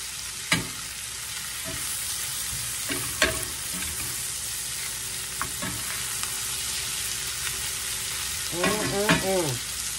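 Okra and potato hash sizzles steadily in a frying pan while a utensil stirs and scrapes it, with sharp clacks against the pan and a brief cluster of scraping strokes near the end, close up, no talking.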